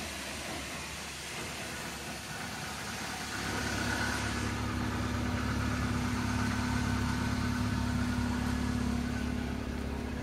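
Air conditioning running in a 2010 Ford Escape XLS, a steady low hum and whoosh with engine drone that swells louder after a few seconds, with no talk.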